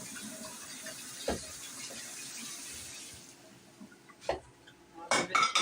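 A spatula is rinsed under a running kitchen tap: a steady stream of water for about three seconds, then several sharp clinks and clatters of utensils against the sink, fairly close.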